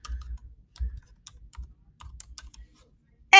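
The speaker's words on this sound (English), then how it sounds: "and then type in your password." Keys clatter on a computer keyboard as a password is typed in irregular bursts of soft, close clicks, ending with a louder final keystroke.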